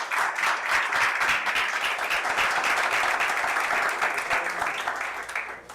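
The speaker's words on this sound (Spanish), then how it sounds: "Y le brindamos un aplauso al que se merece la gloria." A church congregation gives sustained applause during a worship service, a thick, steady roar of many hands clapping together, close and loud, tapering slightly toward the end.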